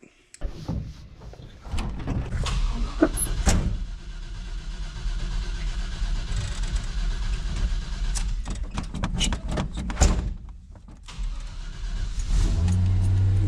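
An old wooden-bodied truck with a rebuilt 14-bolt rear end, started for a test drive: clunks and door thumps, then a steady low engine drone with louder revving moments, close and continuous.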